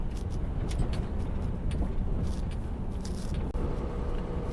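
Steady interior rumble of a car driving slowly along a narrow, potholed road, with a continuous low engine and road noise and occasional small knocks, no talking.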